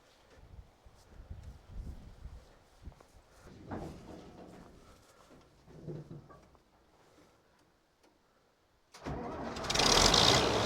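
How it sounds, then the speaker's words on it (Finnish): An old Swedish Swed Trac tractor engine cranks with low, uneven rumbling, then catches abruptly near the end and roars loudly and close. "Se kokeilee käynnistää yhden vanhan vajerikoneen meille."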